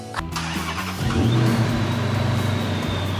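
A modified Dodge Challenger, newly fitted with a turbocharger, fires up with a short starting burst and settles into a loud, steady rev close by.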